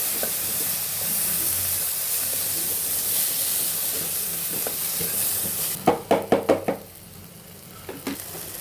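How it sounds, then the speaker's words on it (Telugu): Chopped tomatoes fry in a pan for macaroni, giving a steady loud sizzle with stirring scrapes, then a short run of sharp clatters near the end as the hiss fades. "గుండగా కట్ చేసి ఒక 3 టమాటాలు వేసాను"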